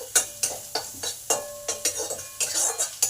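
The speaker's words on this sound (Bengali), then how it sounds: "এবার জিরে, আদা, হিংটাকে ভালো করে হাফ মিনিট ভেজে নেব" Cumin, ginger and asafoetida frying in a pan, with a quiet sizzle under repeated rhythmic spatula strokes that clink and scrape against the metal about every third of a second, close by, no talk.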